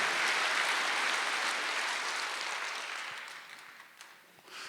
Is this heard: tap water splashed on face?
no